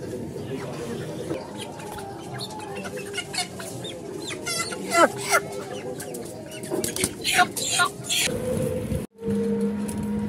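Chickens cluck repeatedly at a busy poultry market, with loud nearby squawks among crowd noise and people talking.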